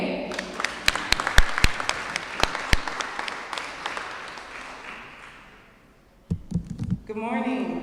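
Audience at a Brooklyn Denim Day walk event applauding ahead of a singer's song, with loud close claps over crowd clapping that fades to near silence, after which a few thumps and a voice begin.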